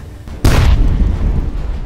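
A purple poison explosion in a fantasy story goes off as one sudden, loud boom. It leaves a heavy, rumbling roar that lingers to the end.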